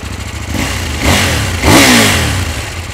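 KTM Duke 790 motorcycle with an Akrapovic exhaust, heard up close idling, then revved twice in quick succession with loud rising bursts before settling back to a throbbing idle.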